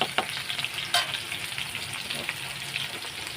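Cumin, green chili, ginger and turmeric paste sizzling in hot oil, a steady crackling fry with occasional scrapes of a spoon stirring it, no voices.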